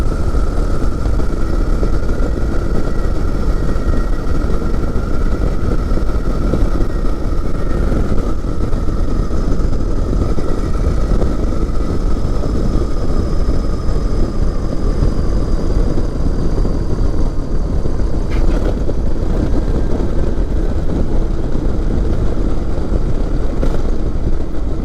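The engine of a microlight aircraft drones loudly and steadily while it flies circuits, heard close up from the cockpit, with a constant propeller roar and a slowly shifting tone.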